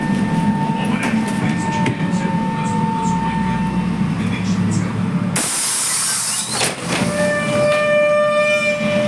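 A LAZ E301D1 trolleybus rumbles and brakes with rising and falling tonal squeals, then a sudden loud burst of air hiss, followed by more squealing.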